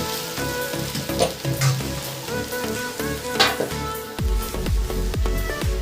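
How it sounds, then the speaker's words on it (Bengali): Hot water is poured into a pan of sizzling pointed gourd curry. Steady frying sizzle and faint stirring clinks come first. Near the end there is a burst of bubbling, spattering hiss with rhythmic pulses. "এখানে আমি গরম জল অ্যাড করছি।"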